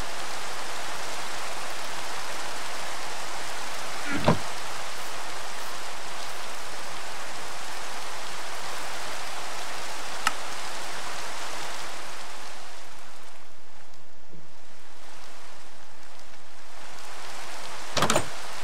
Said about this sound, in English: Ah, yes, it's raining.